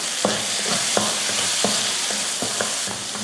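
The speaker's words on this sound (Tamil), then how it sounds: "இப்போ வெங்காயத்தை வதக்கிக்கலாம்." Chopped onion sautéing in a pan, a steady loud sizzle with regular scraping taps of a spatta stirring roughly every half second.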